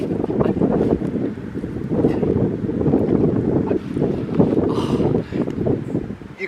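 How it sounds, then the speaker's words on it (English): Strong wind blasts across a Tasmanian western lake, roaring steadily and buffeting the microphone in loud, continuous gusts. "the wind is just blasting upstream"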